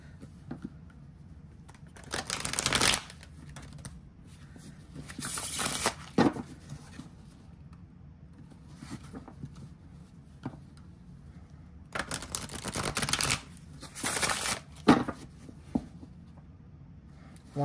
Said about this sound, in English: Let me shuffle you a few times.